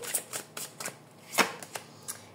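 Angel oracle cards are shuffled by hand, a quick series of about eight soft papery riffles and flicks, close and fairly quiet with no talk.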